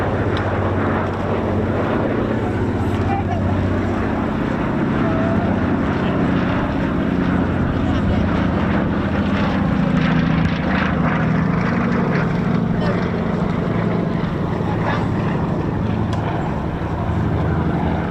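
A Lockheed 12 twin propeller aircraft flies past at the RAF East Kirkby airshow, a loud, close, throbbing piston-engine drone with a low pitch that sweeps down as it passes, rumbling on continuously.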